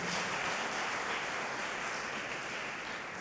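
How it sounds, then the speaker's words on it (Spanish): Congregation clapping during a church sermon, a dense, steady wash of applause filling the room for a few seconds without any voices over it. "Si le va a aplaudir, apláudale al Señor."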